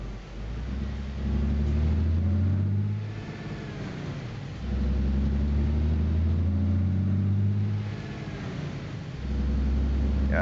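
A heavy truck engine in American Truck Simulator drones with a deep, steady rumble that swells in three long surges and eases between them, close and loud with no voices.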